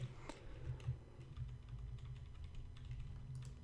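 Soft, sparse keystrokes tap on a computer keyboard, faint and irregular over a low steady background hum, with no one speaking.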